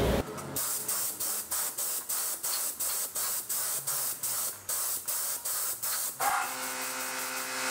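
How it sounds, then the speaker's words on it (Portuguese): A paint spray gun sprays PU varnish onto antique wood in a steady series of short, loud hissing bursts that repeat evenly, ending with one longer hiss. "ou com a pistola de pintura, tanto faz se a de gravidade como a de sucção"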